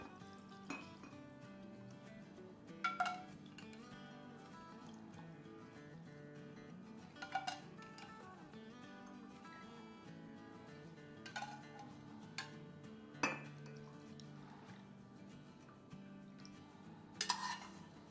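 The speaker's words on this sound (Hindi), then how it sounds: "चलें अब इसको हम अपने क्यूट क्यूट से कप में निकाल लेते हैं" Cups and dishes clinking in a kitchen while Kashmiri pink tea is served: several light porcelain chinks spaced a few seconds apart over a quiet, steady background, with no talking.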